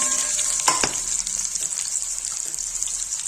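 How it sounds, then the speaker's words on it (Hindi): Onions sizzling in hot oil in a pan for a rajma masala, a bright continuous crackling sizzle up close with a couple of sharp clinks or stirring knocks early on, no talk. "तेल गर्म हो गया, सब प्याज डाल"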